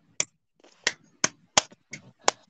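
Six sharp claps spaced about a third of a second apart in a steady rhythm, close and crisp with quiet gaps between.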